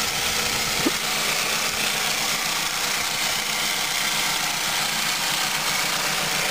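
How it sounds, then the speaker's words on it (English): 2001 Ford Focus SE station wagon with a 2-liter 4-cylinder 16-valve Zetec engine idling, a steady even hum heard close up with no talking. "it's got the 2-liter 4-cylinder engine with the 16-valve Z-Tech."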